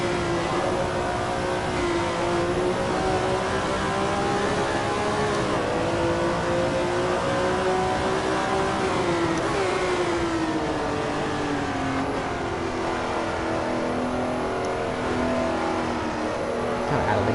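A Ferrari engine roars in the Assetto Corsa racing game, holding a sustained high-revving drone whose pitch climbs and dips through gear changes and cornering, loud and continuous with no talk.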